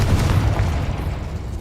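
A deep, rumbling boom from a Confringo fire-blast spell in the video game Hogwarts Legacy, loud and sustained with a heavy low-end roll.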